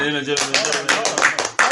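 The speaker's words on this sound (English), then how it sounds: "a round of applause again" Applause from a small live audience at an up-close interview event, sharp bursts of clapping rising under and between a man's speech, close and lively.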